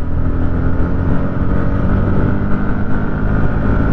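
A Kawasaki ZX10R sport motorcycle accelerates at full power, its engine giving a loud, dense, continuous roar heard close up throughout, with no talking.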